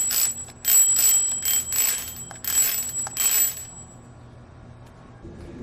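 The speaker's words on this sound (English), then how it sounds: "my wife couldn't live without this crystal bell from Tokyo Bell" A crystal bicycle bell from Tokyo Bell rings in a series of bright, sharp dings, several quick strikes in bursts that ring out close and clear before fading to quiet.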